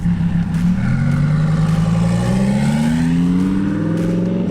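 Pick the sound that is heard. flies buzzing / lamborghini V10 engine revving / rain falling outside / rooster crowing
lamborghini V10 engine revving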